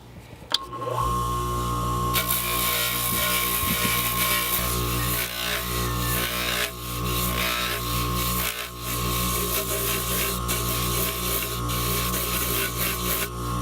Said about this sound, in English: we're going to take the rough sandpaper off and we're going to put a softer one. This is going to be more of a polisher.